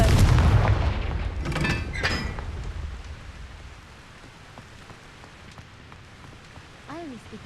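A Confringo explosive spell in the video game Hogwarts Legacy goes off with a loud close boom and crackling burst, then fades into a softer ambient rumble with faint chirps.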